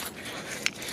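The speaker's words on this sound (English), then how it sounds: "Key for the car." Car keys jangle faintly, with a brief bright metallic chink standing out against a quiet background, a single short rattle.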